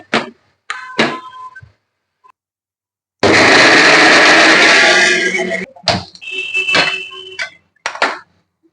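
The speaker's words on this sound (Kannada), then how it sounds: "ಇವಾಗ ಇದನ್ನ ನಾನು ಮಿಕ್ಸಿ ಮಾಡ್ಕೊಂಡ್ ಬರ್ತೀನಿ." An electric mixer grinder blends coriander and mint for crab gravy in a home kitchen: one loud, steady whirring burst of about two and a half seconds, framed by brief clatters and knocks of the jar before and after.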